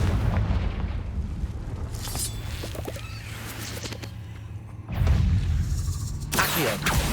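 Confringo fire-blast spell being cast in the Hogwarts Legacy video game, heard as repeated booming blasts with crackling bursts, loud and close over a dense rumbling game soundscape, no talk.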